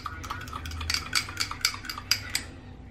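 A utensil stirs melting cheese in a pot for nachos, with a run of sharp metallic clinks and scrapes against the pan repeating quickly, close and clear with no talking.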